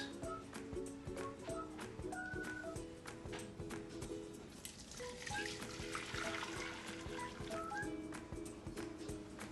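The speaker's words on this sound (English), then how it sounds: "when I was pouring the water in, I tried not to pour the bottom." Hot water pours out of a container at low volume, a continuous trickling splash with some faint tonal ringing throughout.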